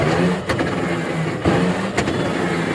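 A JMC electric truck runs its motor after a controller replacement, giving a steady mechanical drone with a few sharp clicks or knocks about a second apart, heard close with no talking.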